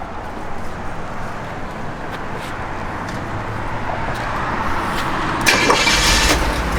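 A 1964 Chevrolet Impala engine idles smoothly and quietly nearby, a low steady hum with a brief rise in hiss near the end; no voices.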